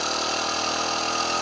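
A motorcycle engine runs steadily as the rider eases out the clutch and opens the throttle in first gear, giving a continuous close, loud drone with no clear rev spikes.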